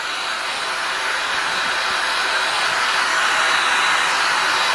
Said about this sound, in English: Alright, so we are now drying the shirt.